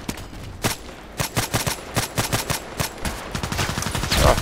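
HK416c rifle firing in the video game Contract Wars: a rapid series of sharp, loud gunshots in quick bursts, close and punchy, with a brief mechanical clatter near the end.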